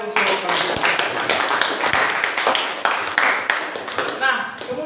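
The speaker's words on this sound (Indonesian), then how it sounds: "kita berikan tepuk tangan sekali lagi untuk kalian" A classroom of students claps for classmates after their presentations, a close, uneven burst of many hands with some chatter mixed in.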